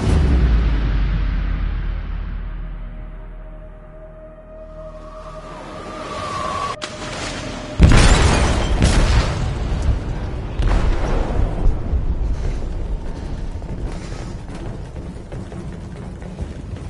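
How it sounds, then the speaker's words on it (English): An explosive detonates in a ship's hold in a video game: a deep rumble builds, then a loud booming blast with crackling debris and a long, roaring tail. "They detonated an explosive in the hold"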